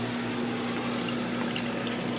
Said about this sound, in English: So I always turn the water off a little bit early because it will keep running.